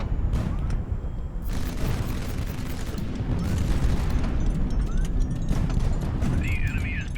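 An enemy ship is blown apart in the naval strategy game Highfleet, a dense, sustained rumble of booms and blasts filling the whole stretch at close range, with a brief whistling tone near the end.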